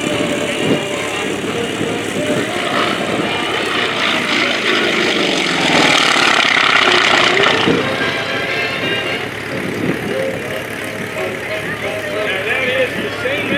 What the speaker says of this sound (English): Coming in from the left, Thom Richard, the FM-2 Wildcat.